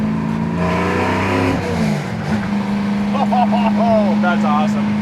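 A 1969 Chevy Camaro engine pulls hard through the gears, a loud steady drone that drops at a shift and climbs again, with people talking excitedly over the engine throughout.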